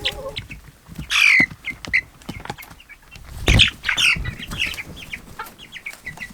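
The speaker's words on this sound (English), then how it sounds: "Let's go in and see the chicks, the little cheepies." Baby chicks in a brooder pen give a scatter of high, thin cheeps and peeps, some close and loud, others softer, in an irregular chattering stream.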